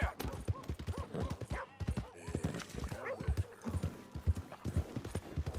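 In the video game Red Dead Redemption 2, horse hooves clip-clop in a steady, quick rhythm, with a snorting whinny rising partway through; the hoofbeats stay close and distinct throughout.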